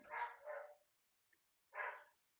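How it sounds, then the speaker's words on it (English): A dog barks three times nearby, two quick barks then a pause and a third, faint against a quiet room. "I'm going to let the dog out, see if he's calmed down a little."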